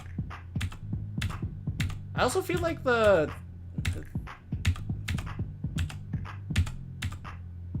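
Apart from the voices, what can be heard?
pressing arrow keys on a computer keyboard while playing a rhythm game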